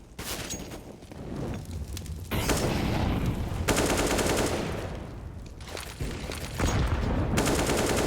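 Gunfire rings out on the Mirage map in Counter-Strike during a DreamHack Open Fall 2020 match between OG and G2, with pistols only and no armor. Loud, rapid shots come in clustered bursts separated by brief lulls.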